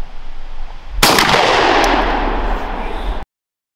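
A shotgun fires a single round of two-and-three-quarter-inch buffered double-aught buckshot, a sharp loud blast followed by a long, broad echoing decay that cuts off abruptly.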